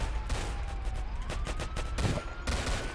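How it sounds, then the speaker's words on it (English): Roblox gunfire rattles in a busy in-game war zone, with repeated bursts of rapid shots over a constant rumble, a faint siren-like tone running underneath, and no talking. "Oh, I'm being shot at, guys."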